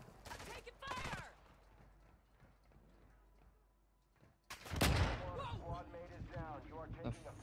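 Bursts of gunfire from the DMZ video game, with sharp volleys near the start and a heavy loud blast around the middle followed by continued crackling, while players talk over it.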